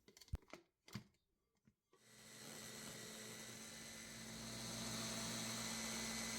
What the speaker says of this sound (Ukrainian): Додаємо сіль і все перемелюємо у блендері.